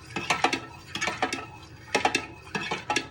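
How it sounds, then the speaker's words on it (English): A fork scrapes and clinks against a pot while soup ingredients are stirred, in short rhythmic bursts of metallic taps separated by brief pauses, close and fairly loud. "And then with a fork, you want to stir this all in."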